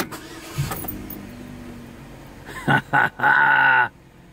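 A Chevrolet Cobalt engine, whose starter had been spinning without starting, cranks in a few short bursts, then catches and roars to life, following a quiet stretch of low rumbling.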